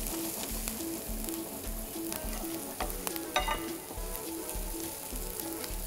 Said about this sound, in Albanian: Të presim sa të skuqet qepa